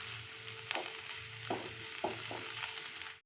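Onion, green chilli and garlic sizzle in ghee over a low gas flame, a steady soft frying hiss with a few louder clinks and stirring scrapes from a spoon in the pan.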